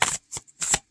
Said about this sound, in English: So let's give it a shuffle and pull a card and see what the book says.